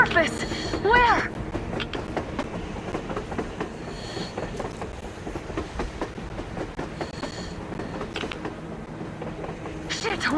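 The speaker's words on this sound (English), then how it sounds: "A train! A damn train on the surface!" A train passes on the surface in the video game Metro Exodus, a continuous rumble of rail cars with creaking, clanking metal and clickety-clack, loud throughout, with voices talking over it.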